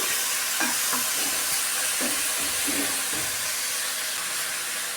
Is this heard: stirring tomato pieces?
yes